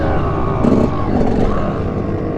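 Chinese pit bike engine revving during a wheelie, a loud continuous buzzing roar with rising and falling pitch, close by, with outdoor background noise.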